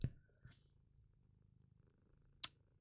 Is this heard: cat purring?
yes